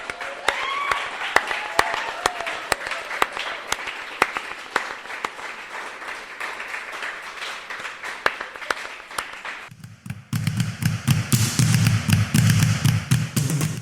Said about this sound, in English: let's give a great big round of applause to Dan Jupiter for doing all of this